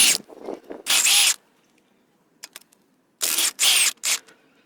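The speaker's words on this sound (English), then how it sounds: "I'm gonna be removing the motor mount here." A ratchet or power tool works on the 17mm motor mount nuts and bolts of a Hyundai Tucson, in two loud, rapid bursts separated by quiet pauses with a few faint clicks.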